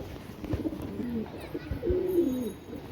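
Pigeons in a rooftop pigeon loft coo softly in low, rolling calls, a few overlapping phrases close by, with some faint background rustle.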